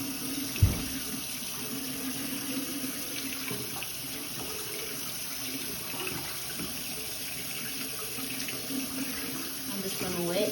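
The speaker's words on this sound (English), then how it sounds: "So first I'm just gonna turn the water on, adjusting the temperature." Water running from a sink tap into a bowl during handwashing, a continuous rushing splash that goes on without a break, with a short knock near the start and the flow changing slightly toward the end.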